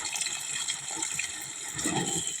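Water poured at the base of tomato plants grown in plastic mulch, a close, steady splashing and trickling into the soil that swells slightly toward the end, with no talking.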